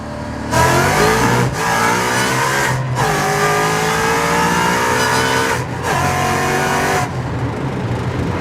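A Ford Mustang engine is held at about 4,500 RPM, giving a loud sustained mechanical roar that cuts out briefly twice and then resumes, with no talking over it.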